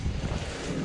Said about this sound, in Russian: А ветер капец.